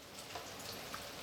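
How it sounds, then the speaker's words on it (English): Steady rain falling just outside an open garage door, a constant soft hiss with faint scattered drips, fairly distant and even throughout, with no voices. "Got some rain out there"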